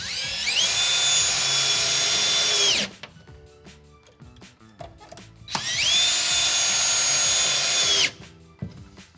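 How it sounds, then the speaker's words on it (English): A power drill bores into wooden blocking for a Delta MultiChoice shower diverter rough-in valve install, two sustained high whining bursts of about three seconds each separated by quiet handling clatter. "before I drill my other two sides"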